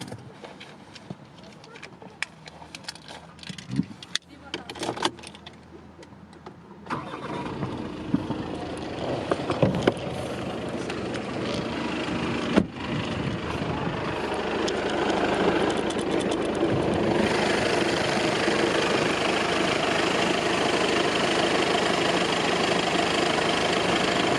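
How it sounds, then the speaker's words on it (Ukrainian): A 2016 VW Golf Alltrack engine with a DQ250 gearbox cranks and catches, then settles into a steady idle that grows louder and fuller, with a few clanks and handling noises early on. "Зараз ще коротко продемонструємо вам роботу мотору."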